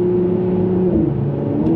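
Mercedes-AMG C43 coupe with a 3-liter, 385-horsepower engine revving, a steady loud mid-pitched drone that dips slightly as the revs shift, close and without voices.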